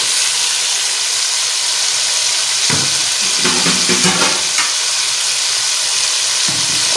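Boneless chicken frying in a pan as onions are added, with a loud, constant sizzle and a burst of crackling spatter in the middle, close up with no voices.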